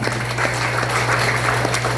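A church congregation applauding the Lord during a Filipino worship service, a steady wash of many hands from a distance over a low constant hum.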